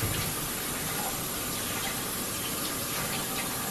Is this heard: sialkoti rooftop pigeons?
no